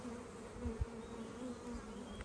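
Honey bees buzz steadily around a hive, a continuous close drone with a low hum that holds throughout.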